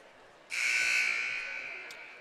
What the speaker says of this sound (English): There's the buzzer to end this rest period between the first and second set.